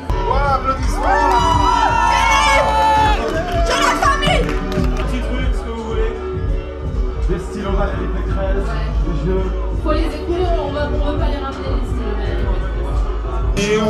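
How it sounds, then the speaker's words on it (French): A festival crowd at Rock en Seine cheers and applauds in front of a live radio show stage, loud and continuous with whoops and shouted voices rising over the sustained roar. "Voilà, applaudissements."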